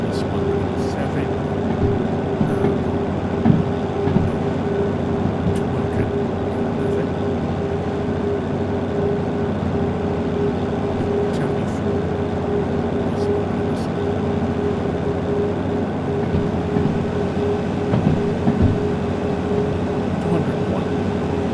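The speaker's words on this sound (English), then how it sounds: "Plus this cab, my locomotive, DH4, is DH4." The DH4 diesel locomotive in the VR train game Derail Valley gives a steady, droning engine rumble with a constant hum throughout, running continuously at even loudness.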